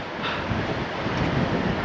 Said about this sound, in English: That I can hear the waves,